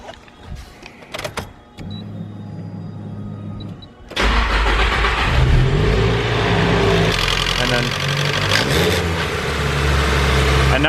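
A Nissan S15 engine revs up under throttle, loud and sustained after a quieter idle with a light chain-slack rattle, the timing chain tensioner noise fading once the revs climb.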